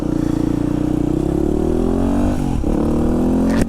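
A motorcycle rebuilt after a wreck is ridden with its engine close and loud, holding a steady drone, then dipping briefly and climbing again as the revs change.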